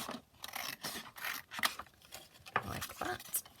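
Scissors snipping through a book page while making coin envelopes, a few quick close cuts and paper rustles at low level, with faint traces of a voice.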